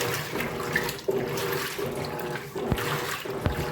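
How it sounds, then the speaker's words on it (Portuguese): Water sloshes and splashes inside an Electrolux Turbo Economia 15 kg top-loading washing machine during a normal wash, with irregular gurgling surges and a few sharper splashes nearby. "A água espirrou em cima, quase em cima do celular."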